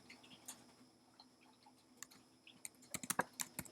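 Fingers tap on a computer keyboard, faint sparse clicks at first that quicken into a close, rapid burst of keystrokes near the end, with no voices.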